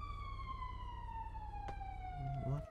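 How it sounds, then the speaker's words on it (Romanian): Emergency vehicle sirens in a GTA 5 game scene, a steady wailing tone sweeping slowly downward over a continuous low engine rumble, with a louder burst near the end. "Auzi sirene?"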